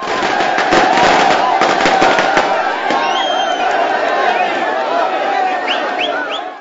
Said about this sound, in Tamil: மகிழ்ச்சி வெள்ளத்தில் பட்டாசுகளை வெடித்தும் இனிப்புகளை விநியோகித்தும் ஜெயலலிதா விடுதலையை கொண்டாடினர்.